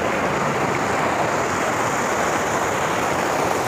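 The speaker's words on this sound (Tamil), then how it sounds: "இந்த தண்ணி சவுண்டு ஏதாவது அதிகமாக இருந்தால்" Rushing water pours at Aagaya Gangai waterfall in the Kolli Hills as a loud, constant, close roar of broadband hiss that never lets up, with no voices.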